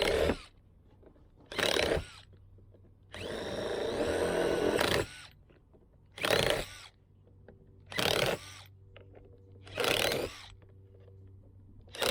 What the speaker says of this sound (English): 14 plastic weld. You just got to drill it out.